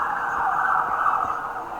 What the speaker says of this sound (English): That is a sign of a police call or an ambulance. That was definitely ambulance.